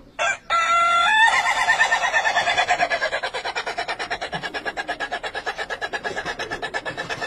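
A rooster gives a long, loud crow close by, followed by a rapid, rhythmic rasping pulse that continues to the end, with no talk.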